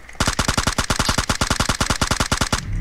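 Rapid automatic gunfire from PUBG Mobile in the Miramar desert map, a steady burst of about twenty evenly spaced shots over two and a half seconds, loud and close, with no talk over it.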